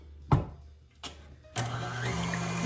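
A stand mixer with a whisk attachment switches on to whip egg whites for meringue, with a few clicks and bumps before a steady motor whir rises and continues.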